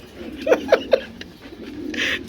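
Pigeons for sale at a market give three short, evenly spaced coos in quick succession, fairly close and clear over a low background murmur.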